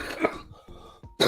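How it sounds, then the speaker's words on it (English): A cough bursts out loud and close at the start and returns at the end, with rough throaty sounds between. "this cough is a pain in my ass"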